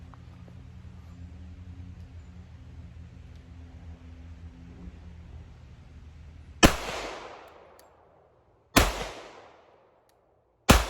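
Sig P227 pistol fired single action at an outdoor range, three sharp, loud shots spaced about two seconds apart, each with a decaying echo, after several seconds of quiet background hum.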